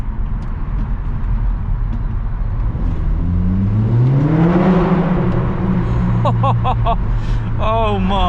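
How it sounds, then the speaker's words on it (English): A 300 bhp Audi S3 drives through a tunnel at night with the window down, its engine and exhaust swelling into a rising, booming rev before easing off, loud and close, with a voice speaking briefly over it. "we'll try and hear what the car sounds like in the tunnel"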